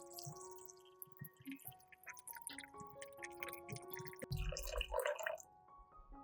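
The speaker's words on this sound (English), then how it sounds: "Fill it halfway with water." Water dripping and trickling into a towel-lined pot holding a jar, with scattered droplet plinks and a brief splashy pour near the end, quiet and close.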